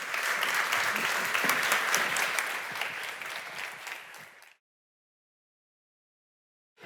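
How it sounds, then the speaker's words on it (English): Audience applause fills a conference hall for a supply chain speaker, a dense steady clapping that carries for about four and a half seconds before cutting off into silence. "please clap your hands for Lora Cecere"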